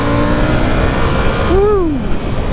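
A KTM 890 Duke R motorcycle accelerates hard to overtake, its engine a loud continuous roar under heavy wind rush, with a short rising-then-falling whine near the end.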